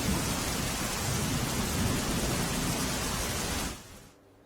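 Torrential rain pours down in Gujarat as a dense, loud, continuous roar that ends abruptly near the close.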